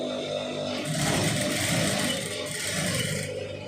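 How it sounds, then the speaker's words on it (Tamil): Sewing machine stitching along a folded fabric strip for a hook-and-eye or V band, a steady continuous motor hum with rapid needle rhythm, close and loud throughout. "அதை மடிச்சுட்டு அதில் வந்து அப்படியே தையல் போட்டுருங்க"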